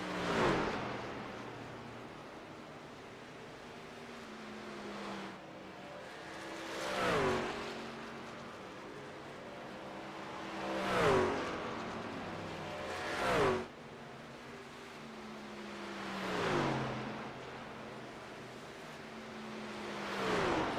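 Racing trucks circle the Homestead track in a night championship race, passing a trackside spot again and again as loud engine roars swell and fade every few seconds over a constant crowd and track din.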